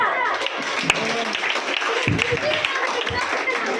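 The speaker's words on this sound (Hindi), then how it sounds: "जोरदार तालियां" Loud applause from an audience after a patriotic Hindi speech at a public event, dense clapping filling the stretch with voices mixed in.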